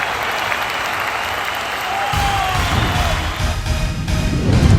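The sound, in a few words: audience applause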